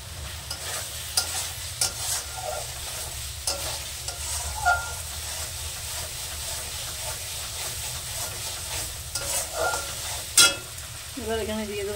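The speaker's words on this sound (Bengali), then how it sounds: "এবার মশলাটাকে কষে নেব ভালো করে" Spice masala being stirred and fried in a pan for a vegetarian curry of paneer and green peas, with a steady close sizzle under repeated scraping strokes of the spoon and a brief louder clatter near the end.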